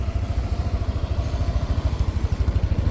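A Yamaha NMAX 155 scooter engine idles close by with a steady, rapid putter that pulses evenly throughout. No one speaks.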